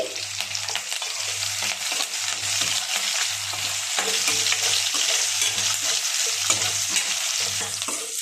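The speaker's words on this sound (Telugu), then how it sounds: "చూడండి ఆనియన్స్ ఈ విధంగా ఏ వరకు వేయించుకోవాలండి" Onions and curry leaves frying in a pan, a loud continuous sizzle with regular rhythmic scraping strokes of a spoon stirring through it.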